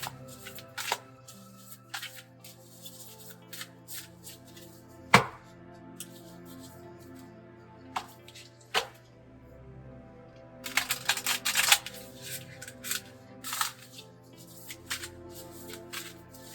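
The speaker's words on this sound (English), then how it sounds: "just shuffle these cards once more" Soft, irregular papery taps and riffles as tarot cards are shuffled up close, with a quieter flurry of rapid flicks near the end over a low hum.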